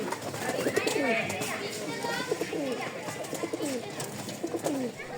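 Racing pigeons in a loft, repeated soft throaty cooing from several birds close by, under someone talking steadily throughout.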